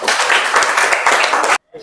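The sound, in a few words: applause in a classroom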